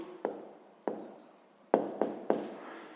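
Pen or chalk strokes of a maths answer being written by hand, sounding as five distinct taps and scratches in an uneven rhythm, close and clear with no talk.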